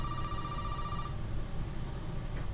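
An old-style telephone rings in the Resident Evil 7 game, a single steady electronic tone lasting about a second over a constant low ambient hum, fairly faint.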